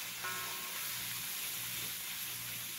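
Bhuji frying in a pan for a Guyanese meal, a steady bright sizzle and hiss that runs unbroken and close throughout, with no talking.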